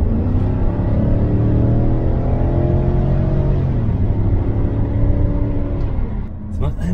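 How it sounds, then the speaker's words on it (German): A BMW E39 540 V8 engine pulling hard on kickdown along a country road, a deep steady rumble climbing in pitch, easing after a shift, then a voice starting to speak at the end. "Landstraße, einmal Kickdown,"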